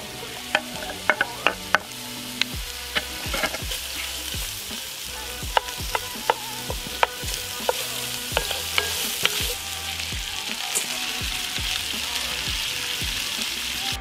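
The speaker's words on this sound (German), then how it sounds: "Und werden dann gemeinsam scharf angebraten." Sucuk and ingredients sear hard in a Dutch oven with a dense, constant crackling sizzle and frequent sharp pops and spatters, close and loud, no voices.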